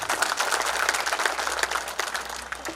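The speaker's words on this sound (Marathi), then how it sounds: "त्यांच्यासाठी जोरदार टाळ्या व्हायला पाहिजे." An audience claps loudly and continuously for blood donors at a Shiv Jayanti event, a dense crowd applause that holds steady before tapering slightly toward the end.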